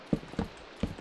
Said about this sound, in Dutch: Oh, het regent.